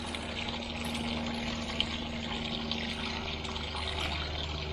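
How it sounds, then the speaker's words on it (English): A garden pond filter and water feature run steadily, giving a continuous trickling, splashing flow of water at moderate level with no talk. "we've got the filter, the water feature running again now"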